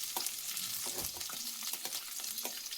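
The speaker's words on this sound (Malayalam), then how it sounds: "നമ്മള് തക്കാളിയും കറിവേപ്പിലയും കൂടെ ചേർത്ത് കൊടുക്കാണ്" Tomato and curry leaves go into frying ginger and garlic for a mackerel curry, giving a soft continuous sizzle with a few quick stirring scrapes, close and fairly quiet.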